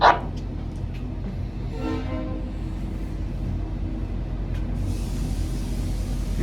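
An N set diesel passenger train on the Swan Hill line idles with a steady low engine rumble after the doors lock, holding an even, loud drone with a brief rising tone early and a hiss near the end.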